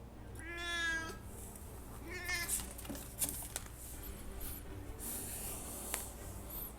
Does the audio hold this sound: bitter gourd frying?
no